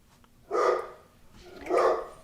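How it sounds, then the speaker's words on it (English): A dog indoors barking twice, two loud close full barks about a second apart, alone against a quiet room. "I don't know what he's barking at."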